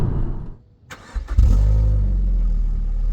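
A dependable everyday car cranks over and starts. A brief starter whir leads into a steady, loud engine hum that settles to idle. No one speaks over it.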